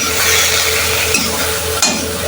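Mixed vegetables seasoned with salt and chili fry in a pan in a home kitchen, a steady close hiss with a couple of brief stirring scrapes.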